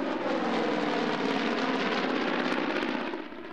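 Loud, steady engine roar of the Lady Liberty, a vintage airplane owned by the Commemorative Air Force, flying at a demonstration, holding strong before fading slightly at the end.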